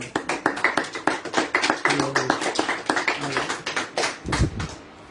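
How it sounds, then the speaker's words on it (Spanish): A church congregation applauds during a worship service: dense, fast clapping from many hands, steady and fairly loud throughout, fading slightly near the end. "Den un aplauso al Señor"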